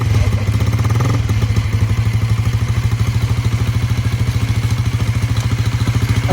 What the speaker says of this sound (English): Okay, so with the bike running,